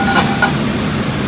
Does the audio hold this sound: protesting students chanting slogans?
no